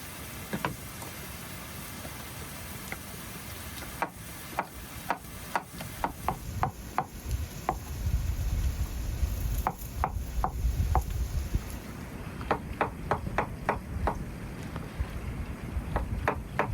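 Ingredients for stuffed meat rolls are finely chopped with a knife on a board in a village mountain kitchen. The cuts are crisp and close, coming in irregular bursts over a low outdoor background rumble.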